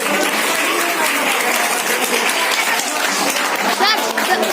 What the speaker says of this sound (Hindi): और तालियों की गूंज कम नहीं होनी चाहिए